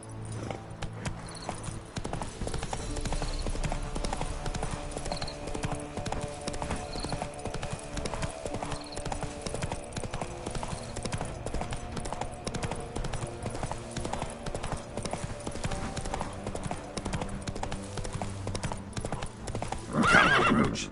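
Roach, a horse in The Witcher 3, trots along with steady rhythmic hoof clip-clops, loud and close, and lets out a sharp neigh near the end; a voice speaks briefly in the background.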